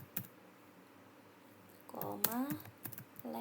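Several keystrokes tapped on a computer keyboard while entering a command in STATA, a few quick clicks and a brief burst of typing, fairly close, with some other noise mixed in.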